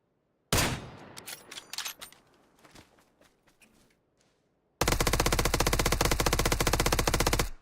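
Automatic gunfire rings out in a video game: one sharp burst, then scattered shots and clatter, then a dense, loud, sustained rapid-fire stream with no recoil control, heard without speech.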